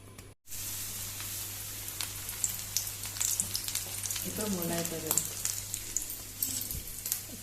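Goan-style kingfish slices frying in hot oil on a lowered gas flame, a continuous close sizzle with scattered crackles and pops, briefly broken by a short dropout near the start.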